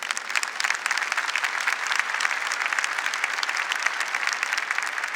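A church congregation applauds steadily for several seconds, with a thick, even patter of many hands clapping together and no talk over it.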